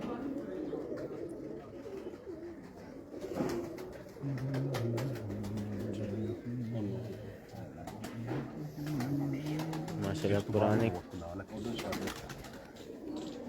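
Older breeding pigeons coo in low, repeated rolling calls close by, while someone talks over and between them.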